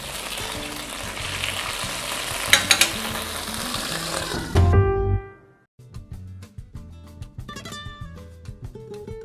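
Meat and bread frying in a pan with rosemary, a loud dense sizzle with scraping stirs and clinks that cuts off abruptly midway, leaving quieter crackling and utensil taps afterward.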